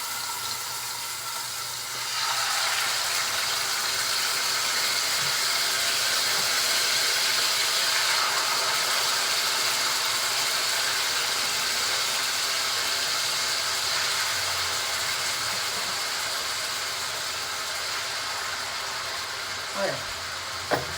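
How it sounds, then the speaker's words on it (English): Fish frying skin side down in vegetable oil in a frying pan, a steady broad hiss and sizzle that swells after the fillets go in and holds at an even level throughout, with no voices. "I'm going to put it skin side down in the frying pan."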